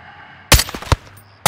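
Sniper rifle shots in Call of Duty Modern Warfare II, fired at two enemy snipers on a tower: three sharp, loud cracks. The first two come close together and the third follows after a short pause.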